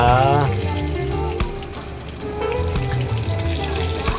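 Tofu frying in a pan while the pieces are flipped one by one, giving a steady, close sizzle and watery hiss that runs the whole time, with faint tonal sounds in the background.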